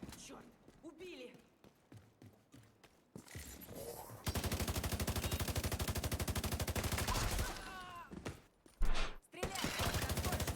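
Gunfire in the video game The Division 2, a long rapid automatic burst of even rhythmic shots followed by another burst after a brief break, with talk heard in the opening seconds.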